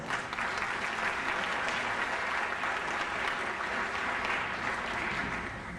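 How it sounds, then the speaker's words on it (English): An audience at a Martin Luther King Jr. Day assembly applauds steadily, a broad wash of many hands clapping at moderate, fairly distant volume throughout. "Let's give a round of applause to Sharon Harris"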